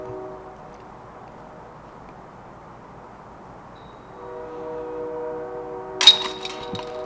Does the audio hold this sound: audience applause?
no